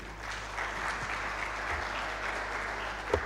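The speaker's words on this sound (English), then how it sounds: "a huge hand clap for Mr. Joshua" Conference audience applauding a speaker at an alternative investments event: steady, dense hand clapping fills the room for the whole stretch, with no talk over it.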